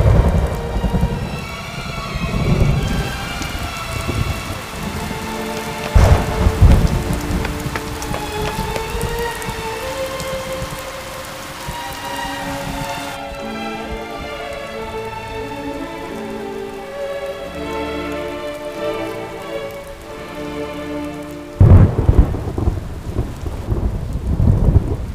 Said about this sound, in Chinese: 下雨了，早点走吧